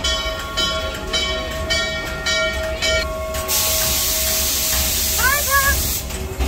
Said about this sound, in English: It's one of the only remaining streamlined steam engines still in use.